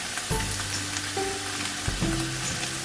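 Boneless chicken frying in a pan with soy sauce, white vinegar and chili garlic sauce, a steady close sizzle with a few stirring scrapes and soft clatters.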